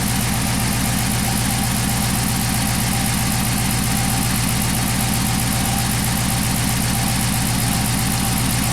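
Chrysler 300 engine idling with a misfire, a loud, close, continuous rumble with a rapid rhythmic pulsing and uneven knocking beat, steady throughout with no talk.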